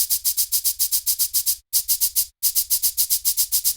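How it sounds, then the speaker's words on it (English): Identical bursts of filtered noise drum hits from a Visco groove box repeat in a rapid, machine-gun-like stream, bright and hissy, with two short gaps breaking the steady rhythm. "You get that machine gun kind of sound."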